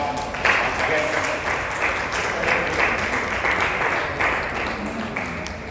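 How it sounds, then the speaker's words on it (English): An audience at a church fellowship inauguration in Madanapalle claps for a missionary, a steady, moderately loud wash of many hands with a few sharper claps standing out. "Let all of us clap."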